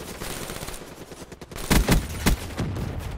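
Gunfire in Call of Duty: Black Ops III: rapid bursts of shots crackle under background game noise, with loud clustered blasts near the middle and another sharp burst shortly after.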